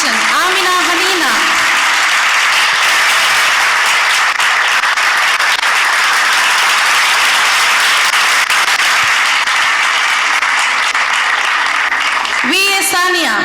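A crowd at a women's college graduation ceremony gives loud, sustained applause for the computer application graduates, with a voice speaking briefly at the start and again at the end.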